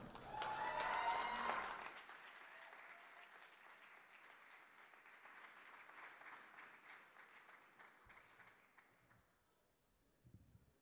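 An audience applauds as poet Paulina is welcomed to the stage at a National Day of Remembrance & Action on Violence Against Women event. A loud burst of clapping opens, then a steady, moderate applause carries on and fades toward the end.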